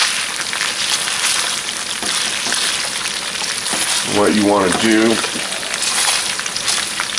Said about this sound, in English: You notice they're frying up quite nicely in the chicken fat.